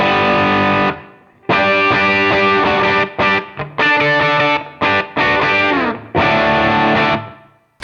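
An electric guitar through a Tube Screamer pedal on an HX Stomp plays loud, gritty overdriven chords in choppy bursts and short stops, ending with a sustained chord, with no voices.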